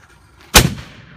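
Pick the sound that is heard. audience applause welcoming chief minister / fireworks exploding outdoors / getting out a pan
fireworks exploding outdoors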